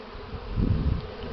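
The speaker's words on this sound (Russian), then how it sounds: "То, что на земле пчел много" Honeybees fly around their hives on a warm spring day, with many bees also on the ground. A dense, close buzzing swells slightly in the middle of this brief moment, with no talk.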